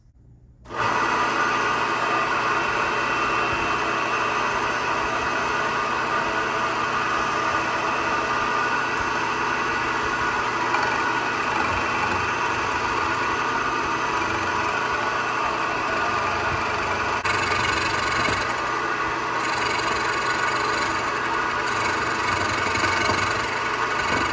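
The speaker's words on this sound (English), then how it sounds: "now I'm gonna come through with the end mill. I'm gonna swing the case around and I'm gonna shave off all this extra material" An end mill on a milling machine slowly shaves excess weld material from a junkyard Harley Knucklehead engine case in one pass, a loud, steady whine and grinding drone that runs evenly throughout.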